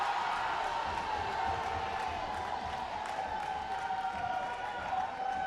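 A basketball crowd in a gym cheers after a play, a sustained distant roar with a bright tonal hum running through it and scattered claps on top.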